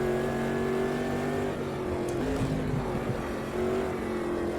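Race car engine in Automobilista 2 holding a loud, steady high drone, then briefly dipping and climbing again as power comes on, a dense continuous roar with no talk over it.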